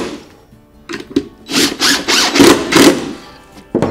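A power drill drives screws into a wooden wood duck nesting box, with several short whirring bursts and pauses, close and fairly loud, each run ending as a screw seats into the wood.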